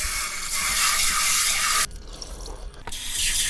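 Boiled red beans being rinsed in running water in a kitchen, a steady close hiss of tap water and swishing that stops abruptly, then returns after a brief pause.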